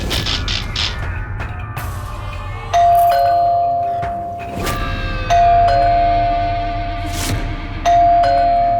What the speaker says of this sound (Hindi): नॉन स्टॉप घंटी बज रही है